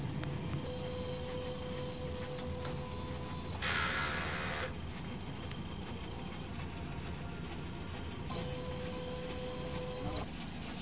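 A DTF printer runs a head cleaning cycle, giving a steady mechanical whir with a constant tone and two short bursts of louder, brighter pump or wiper noise, close up and with no talking.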